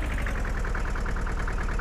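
A tractor engine idles in Farming Simulator, a steady, close low rumble with a fast, even pulsing throb that holds constant for under two seconds, with no voices over it.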